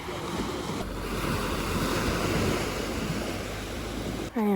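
Waves washing on the beach of Sainte-Anne in Brittany, France, a continuous rushing surf mixed with wind buffeting the microphone, close and fairly loud.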